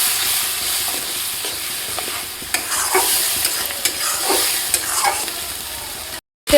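Mutton masala with turmeric stir-fries in oil in a pan, giving a continuous sizzle with repeated scraping spatula strokes, close and fairly loud, cutting out briefly near the end; no one speaks.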